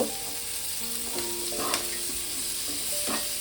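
Onion flowers fry in a pan of oil for an amudi fish curry, a dense, steady sizzle holding close and loud throughout, with a few light scrapes of a stirring spoon.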